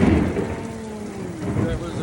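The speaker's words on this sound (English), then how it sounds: "We are getting one good thunderstorm right now." A heavy thunderstorm in the mountains, with steady rain pattering on surfaces and low thunder rumbling underneath, loud and close throughout.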